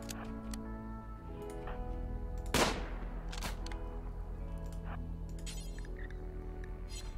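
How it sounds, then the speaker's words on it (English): In the colony game Rimworld, colonists fire on pirates: one sharp loud gunshot cracks out midway, with a few fainter pops and ticks scattered around it over sustained background music. "Come on, keep shooting."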